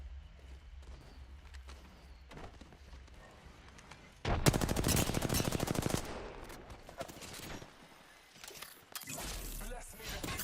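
Bursts of rapid automatic gunfire in the video game Apex Legends, a dense volley after a quieter stretch with scattered shots and a later burst, heard up close with game voice lines and a player talking.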